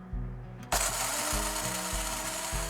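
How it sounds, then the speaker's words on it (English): A coffee grinder starts up and grinds coffee beans, loud and close, with a dense continuous grinding roar pulsing in regular rhythmic surges after a short initial whir. "the biggest part of making coffee is actually grinding the beans"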